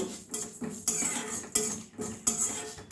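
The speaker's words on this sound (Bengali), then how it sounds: "মশলাগুলো আমি একটু ভেজে নেব" Whole spices, including coriander, fennel, dried chilli, mace, cardamom, peppercorns and cinnamon, are dry-roasted in a pan with a spoon or spatula. A metal utensil clinks and scrapes against it in a regular rhythm, about four sharp strokes, fairly close.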